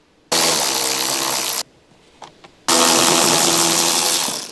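Electric ratcheting wrench fitted with a Torx bit backs out a rocker panel retaining bolt on a Land Rover Discovery 4 side step, two loud close whirring bursts separated by a brief pause with faint clicks.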